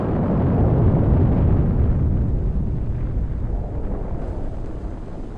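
Nuclear bomb test explosion, a low burst, heard as a loud, sustained deep rumbling roar that slowly fades over several seconds.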